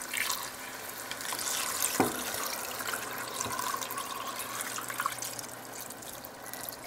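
Beef stock pours into a pot of pilau in a continuous, close watery rush with a few splashy surges.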